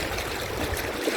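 Very shallow Kern River water running over low rapids, a steady close-up rush and gurgle with no talking.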